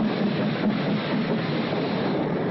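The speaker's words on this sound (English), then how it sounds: "Here's the train." A train rumbles steadily with a continuous rolling roar and faint clatter, sounding close and even throughout, with no voices.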